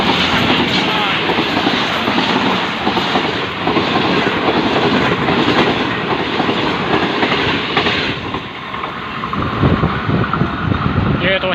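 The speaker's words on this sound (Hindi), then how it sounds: "ये आ रही है 7UP TezGam, my favourite locomotive ZCU।" A Tezgam express train hauled by a ZCU locomotive thunders past near Wazirabad, Pakistan, with loud continuous rumbling and rhythmic wheel clatter close by, while someone speaks over the noise.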